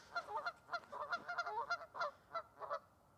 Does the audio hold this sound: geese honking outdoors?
yes